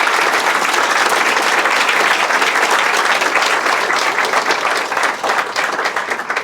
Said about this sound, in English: Let's give a round of applause to Frank.